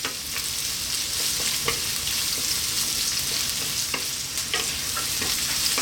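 Chopped onion and garlic stirred and frying in a pan over fairly high heat, a steady close sizzle with scraping stir strokes throughout, no talking.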